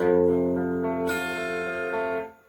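A guitar plays a phrase of a riff, sustained ringing notes then a bright strummed attack midway, fading out at the end, solo with no talking.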